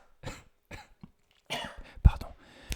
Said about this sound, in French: parce que je tousse